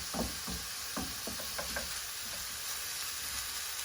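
Minced meat sizzles steadily in a hot pan, with a string of sharp spatula knocks and scrapes early on as it is chopped up and stirred, then calmer frying for the rest of the clip, with no talk.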